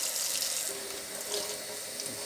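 Tap water runs steadily into a sink while a lawn mower oil filter is rinsed with dish soap, a close, continuous splashing gush with slight shifts as the flow hits the part.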